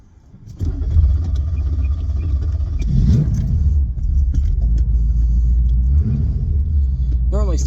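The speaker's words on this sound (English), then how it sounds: "Normally starts easier, but I normally give it a few pumps of gas before I start it too." A Corvette engine cranking and catching after a brief quiet moment, then settling into a loud, close, rumbling idle, with keys jangling and someone talking near it.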